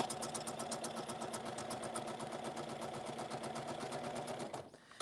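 A sewing machine running at a steady clip, its rapid even stitching rhythm close and clear for several seconds before stopping abruptly near the end, with no voices.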